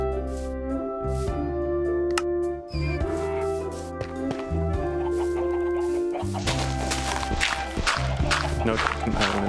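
Chickens in Minecraft cluck in short bursts, blended with steady sustained tones of background game music throughout.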